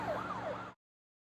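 A wailing emergency siren sweeps up and down, heard faintly from a distance over a low rumble, then cuts off abruptly after under a second.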